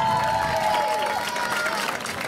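A crowd applauds and cheers for a senior school court member, a varsity cheerleader, with sustained clapping and some whoops under a speaking voice.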